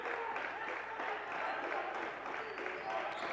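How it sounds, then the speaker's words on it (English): Fans at a high school basketball game, Beaver Dam hosting Edgewood, clap in a steady run of overlapping claps, moderately distant and fairly soft, with a voice talking over them. "They can still clap."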